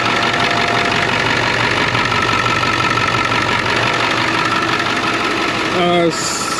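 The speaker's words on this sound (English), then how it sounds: "Looking at the diesel engine in here." The diesel engine of a 2001 International 4700 truck idles steadily with an even knocking rumble throughout, ending with a brief high-pitched tonal chirp near the end.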